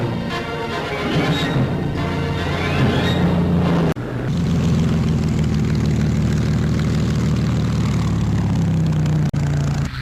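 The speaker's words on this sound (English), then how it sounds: "This is what an intruder plane looks like at the receiving end." A WWII-era propeller intruder plane roars overhead, its engine a loud, continuous rumbling drone that cuts briefly near the four-second mark and then resumes, with no voices.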